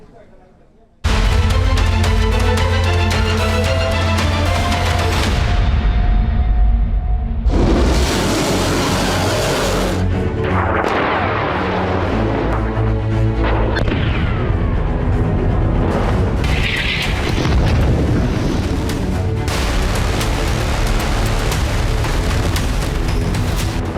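Missile strike explosions in Yemen from Israeli naval attacks, loud, dense booms and rumbling blasts running nearly continuously, with a voice speaking over the bursts.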